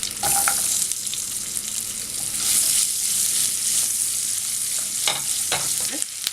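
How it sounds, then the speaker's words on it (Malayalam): Onions sizzle and fry in a pan with cumin seeds, ginger and garlic for butter chicken, a steady loud crackling hiss with occasional stirring scrapes, no voices. "അതിലേക്ക് ഇഞ്ചി വെളുത്തുള്ളി ചേർക്കാം. ഇനി ഇതിലേക്ക് സവാള ചേർക്കാം."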